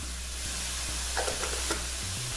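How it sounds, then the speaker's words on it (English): Onions frying in a pan as the base for a fish curry, a steady soft sizzle running throughout with a few brief scraping stirs near the middle, close and fairly quiet, no talking. "While our onions cooking"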